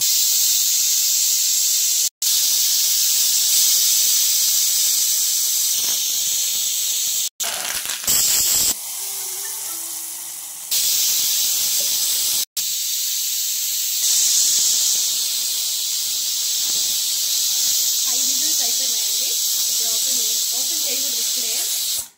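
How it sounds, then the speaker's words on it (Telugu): Spices for a chutney tempering sizzle loudly in hot oil as a dense, close hiss. The sound breaks off at a few abrupt cuts, and near the end there is a brief stretch of other sound. "చట్నీకి తాలింపు రెడీ చేస్తున్నాం"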